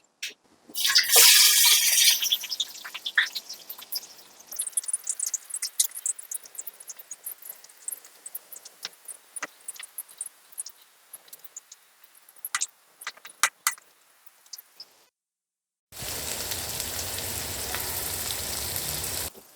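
Onions frying in a pan with fenugreek and cumin for a crab masala, a crackling sizzle that starts loud, settles into scattered pops and hiss, then stops before a steady wash of noise returns.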